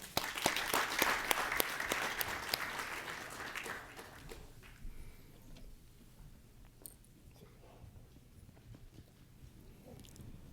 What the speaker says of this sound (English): let's all warmly welcome Dr. S.Y. Quraishi with a big round of applause